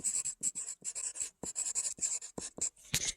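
A pen or marker sketches a function graph on a surface in quick, close scratchy strokes, starting and stopping in short bursts, with no talking.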